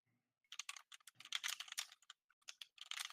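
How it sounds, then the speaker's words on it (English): Fingers type on a mechanical keyboard in quick irregular bursts of sharp clacking keystrokes, close and crisp, with short pauses between the runs and no voices. "Yeah, I got a mechanical keyboard."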